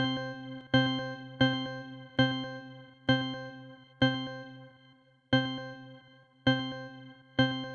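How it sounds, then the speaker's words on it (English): A synthesized pluck, its volume shaped by an automation plugin so each note drops away at once, repeating as nine evenly spaced bright plucked tones that each decay quickly to near silence, clean and alone. "we're gonna put on a little pluck sound like this"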